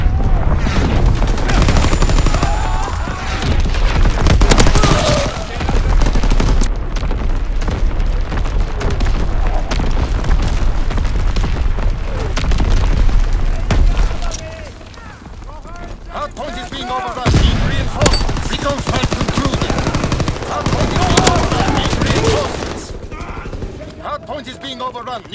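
Booming artillery fire and rapid gunfire from a strafing run in Call of Duty WW2 multiplayer, loud and dense for most of the stretch with a brief lull midway, while game voice callouts speak over the battle.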